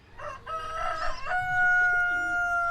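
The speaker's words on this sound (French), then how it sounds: "Le coq s'égosille" A rooster crows once in a long, loud, drawn-out call with a rising start and a sustained tonal finish, heard alone as a sound effect in an animated children's story reading.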